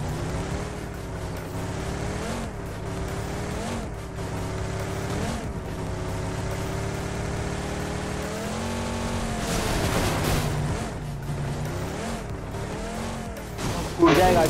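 A vehicle in PUBG Mobile's Miramar desert map attempts a stunt. The engine drones and revs steadily, its pitch sweeping up and down, and tyres squeal with a louder burst near the end.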